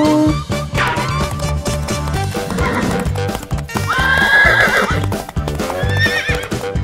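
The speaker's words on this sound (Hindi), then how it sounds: "ये शहजादी का घोड़ा है" A horse neighs and whinnies repeatedly over steady clip-clopping hooves in a children's pretend-play game centre scene. The calls are loud, close and layered over background music.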